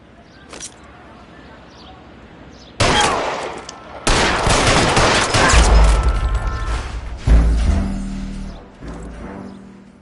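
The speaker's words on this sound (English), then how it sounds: "All units, shots fired, officer needs help." Gunshots at a traffic stop in the L.A. Noire video game, several loud abrupt bursts and rapid volleys of fire separated by short pauses, close and dominant, with voices present.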